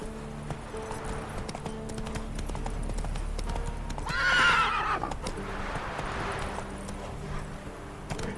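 Horse galloping in The Witcher video game, rhythmic clip-clop hoofbeats throughout with a loud whinny in the middle and faint game sounds around it.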